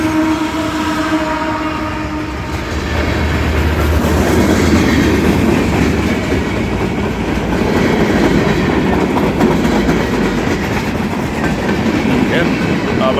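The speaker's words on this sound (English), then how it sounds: "This is a mixed freight train." A mixed freight train rolls steadily past up close, including a mid-train DPU locomotive and strings of center beam cars, tank cars, hoppers, gondolas and box cars, giving a continuous loud rumble with clickety-clack over the rails.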